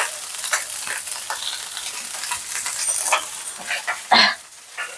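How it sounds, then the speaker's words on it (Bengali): Cooked rice being stirred in a frying pot with salt and spice for a home lunch, a soft scraping and sizzling that carries on steadily, with a sharper clatter of the spoon near the end. "এই যে ভাতগুলা দিয়ে নেড়ে নিচ্ছি।"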